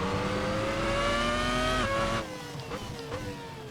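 A race car engine in the Assetto Corsa racing game holds a high, steady rev, then drops sharply as the driver lifts off, followed by a couple of quick throttle blips. The sound is loud and close, with no talking.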